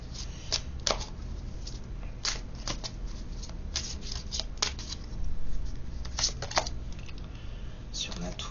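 Large tarot cards shuffled continuously with dense papery flicks and snaps, close up over a steady low background hum.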